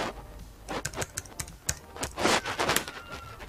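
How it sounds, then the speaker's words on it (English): Computer keyboard typing at a desk while someone codes: irregular bursts of crisp key clicks, some in quick clusters, close and fairly quiet, with no speech. "Okay, I'm gonna use the keyboard."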